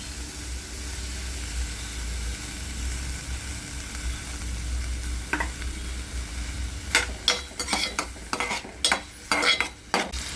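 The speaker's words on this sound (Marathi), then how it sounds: "कांदा भाजायला टाकला आपण त्यात तेल टाकूया" Onion frying in oil in a pan for bombil chutney starts as a faint low hiss, then sharp spatula scrapes and clanks against the pan repeat in quick bursts over the sizzle.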